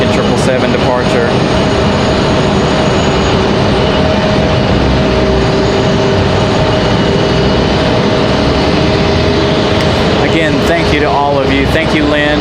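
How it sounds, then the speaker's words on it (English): An American Airlines Boeing 777 departs with a loud, sustained jet roar and whine, steady tones running through it, while people talk at the start and again near the end. "We got lucky with the American 777 departure."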